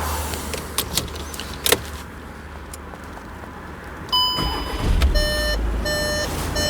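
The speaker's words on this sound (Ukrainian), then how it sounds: "Куча ключів маю в кармані." Metal keys jingle briefly in a quiet 2020 Volkswagen Touran 2.0 TDI interior, followed by a chime and steady electronic beeping as the vehicle powers on.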